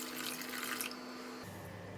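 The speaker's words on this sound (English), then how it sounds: "I'm going to put the water in the pot" Water pours steadily into a cooking pot for a Thai coconut chicken soup, a close rushing splash that softens and changes tone partway through as the pot fills.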